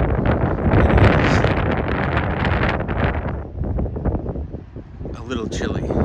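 Strong wind gusting on Hampton Beach, a loud roaring rush buffeting the microphone close up, easing briefly before surging again, with no talk.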